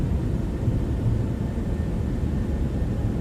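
An airliner rolls out after landing at Atlanta in Microsoft Flight Simulator, with a steady low roar of thrust reversers, deployed spoilers and braking filling the scene, close and continuous without any voices.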